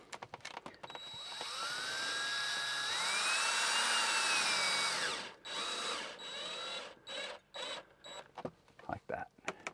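A power driver whirs as a screw goes in for a window shade install, a sustained rising whine for a few seconds followed by short, gentle bursts as the screw is snugged tight, close and clear.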